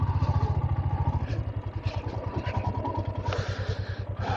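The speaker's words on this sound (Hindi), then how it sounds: "तो यहाँ साइड में लगा देते बाइक को" A motorbike engine idles with a steady, pulsing low throb while the rider pulls over to the roadside at the Shipki La pass checkpoint in Spiti Valley, with faint clatter and scraping over the running engine.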